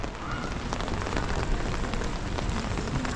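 Heavy rain pours in Paris, a loud, dense and constant patter of drops on hard surfaces, steady from start to finish with no voices.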